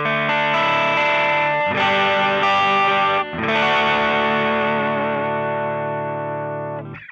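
Electric guitar through a JHS Double Barrel overdrive pedal, neck pickup in humbucker mode, plays sustained, saturated chords that ring out and slowly fade, with no voices.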